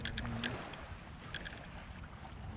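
Boat wakes lap and slosh steadily on Lake Lanier, a broadband wash with small splashes rising and falling, with no voices.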